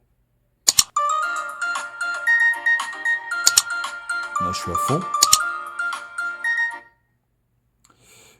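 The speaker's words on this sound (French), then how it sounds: "Donc vous avez le son également ici, la sonnerie au Oukitel" A bright electronic ringtone melody from an Oukitel C21 Pro smartphone plays for several seconds, with a few taps at its start and a voice speaking briefly over it, then silence.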